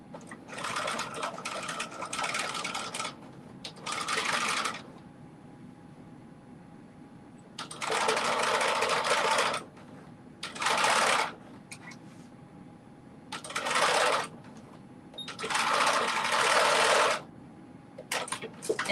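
A sewing machine stitches a dress top with a mesh neckline, running in short whirring bursts about five or six times, each separated by brief pauses, close and clear.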